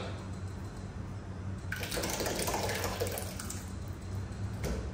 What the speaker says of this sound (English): we will use a little bit water to wash this tomato